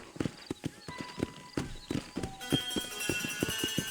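A horse's hooves in the Red Dead Redemption video game beat out a quick, steady clip-clop close by, with a brief whinny and faint game ambience underneath.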